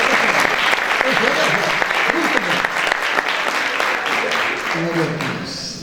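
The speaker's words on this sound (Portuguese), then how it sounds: "Então você podia aplaudir, que agora merece." Applause from a church congregation, loud and sustained throughout, with some voices mixed in among the clapping.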